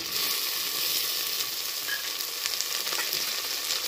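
Onions, green peas and tomato pieces fry in a pan with a continuous, close hiss and faint sizzle crackle, steady for a few seconds with no voices.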